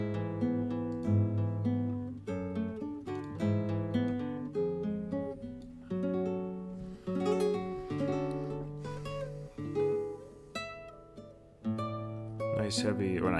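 Strummed and picked acoustic guitar from the Genesis song Blood on the Rooftops plays steady melodic chords and arpeggios, sitting prominently in a full recorded mix.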